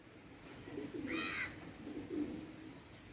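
Pigeons coo in low, rolling phrases, with two or three bursts spread across a few seconds at moderate distance, over steady background hiss and a brief higher chirp in the middle.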